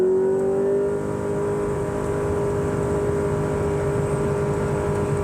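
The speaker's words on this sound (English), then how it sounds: "we are going to switch to sport. I am going to brake torque it." A 2023 Honda Accord Hybrid in sport mode launches hard from a brake-torque start, giving a steady, droning engine and motor whine that holds loud and even throughout, heard from inside the car with no talking.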